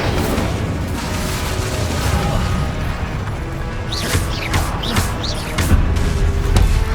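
The Incendio fire spell is cast repeatedly in Hogwarts Legacy amid loud, dense combat noise, with booming impacts and crashing bursts piling up close together throughout.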